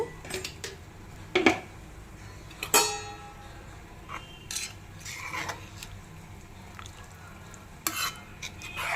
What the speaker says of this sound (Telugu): కూర ఉడుకుతుందండి.